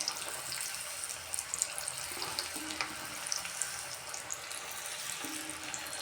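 Cauliflower frying in oil over a medium flame for crispy Gobi Manchurian, giving a steady, dense hiss and crackle that runs throughout at close range, with no voices.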